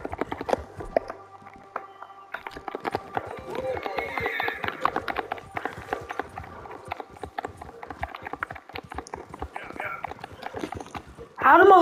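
Horse hooves in the video game Red Dead Redemption, a quick run of clip-clop strikes over a trail ride, with a voice talking over them.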